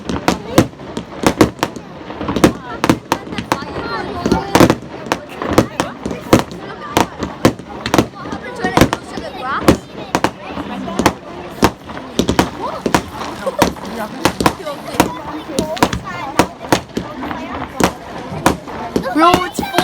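Bonfire on Bonfire Night cracking and popping loudly, with sharp bangs like firecrackers coming in dense, irregular bursts, near and constant for the whole stretch while people exclaim over it.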